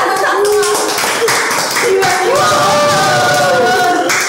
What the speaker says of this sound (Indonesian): Ada yang tepuk tangan di sana, tepuk tangan.